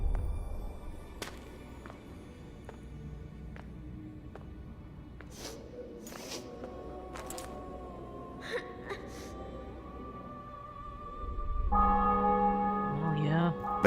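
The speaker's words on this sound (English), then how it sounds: "Bells." Church bells ring in The Witcher 2, a faint, sustained tolling that rises near the end above a low murmur of game ambience and scattered short sounds.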